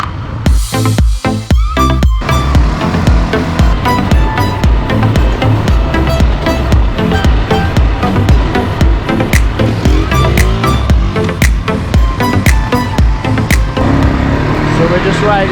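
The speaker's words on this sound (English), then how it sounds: "So we're just riding the ATVs through the Chocolate Hills" ATV quad bikes ride through the Chocolate Hills in Bohol, Philippines, their engines a loud, close, continuous rumbling drone that shifts as the throttle changes.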